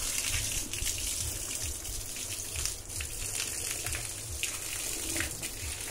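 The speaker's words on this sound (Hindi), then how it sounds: "आज काकू ठंडा पानी से नहा रहा ना काकू" Water gushes and splashes steadily over a dog during a cold-water bath, a continuous near, fairly loud pour with slight surges and no talking.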